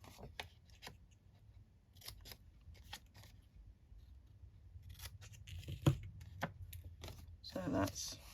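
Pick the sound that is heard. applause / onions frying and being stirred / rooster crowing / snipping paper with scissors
snipping paper with scissors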